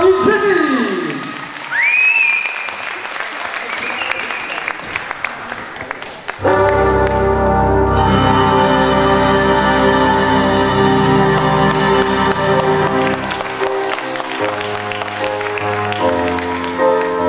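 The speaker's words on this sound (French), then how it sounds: "on applaudit Eugénie" Audience at a regional beauty pageant in Aquitaine bursts into sustained, loud applause with some crowd noise, following someone speaking French over a microphone, while music plays underneath.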